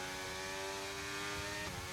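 A Formula 1 race car engine in the F1 2023 game holds a steady, high-pitched whine at full throttle around Silverstone, with a brief pitch dip near the end as if shifting gear.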